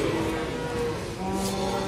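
A cow moos at a livestock market, one long low drawn-out call with a second lower bellow, close and clear over faint crowd murmur.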